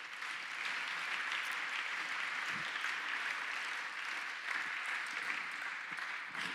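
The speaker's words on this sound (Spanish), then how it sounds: "Un aplauso para el Señor." Sustained applause from a church congregation praising the Lord, a dense, steady clapping that fills the room for several seconds at an even level.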